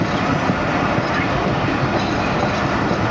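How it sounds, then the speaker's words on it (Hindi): A train runs through a small Pakistani railway station without stopping, giving a loud, steady rumble with wheel clatter from close by and no pause. "यहाँ से थ्रू ही गुज़रती है ट्रेन"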